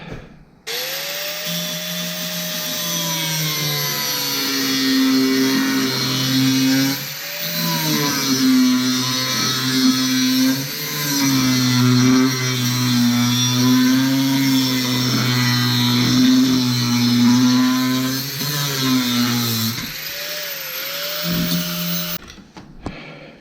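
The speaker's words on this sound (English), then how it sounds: "I'll be able to drill these holes from the top." Power drill whines steadily while boring holes in a panel of a rusty 1966 VW Bug under restoration, with a loud, continuous motor tone that rises and dips in pitch over about twenty seconds before stopping.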